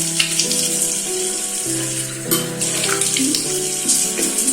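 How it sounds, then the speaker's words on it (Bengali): Running tap water and splashing while a face is washed with water at a sink, a steady broadband rush with shifting tones throughout, close and fairly loud. "ফার্স্ট আমি মুখটা আগে ভালো করে ওয়াশ করে নেবো"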